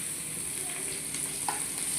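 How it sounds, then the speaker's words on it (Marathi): Garlic, small green chillies and curry leaves sizzle in hot oil as a tempering for dhaba-style dal tadka, giving a steady close crackling hiss with faint stirring. "त्याच्यावर वरती लसणीचा तडका आणि ही लवंगी मिरची आणि हलकासा कढीपत्ता याची आपल्याला फोडणी द्यायची."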